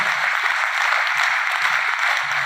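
A large audience claps with both hands raised in a dense, sustained wash of applause that holds steady throughout, loud and filling the hall, with faint low murmurs beneath.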